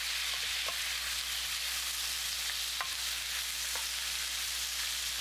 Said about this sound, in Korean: 베이컨이 익으면 애호박을 넣어 함께 볶아줍니다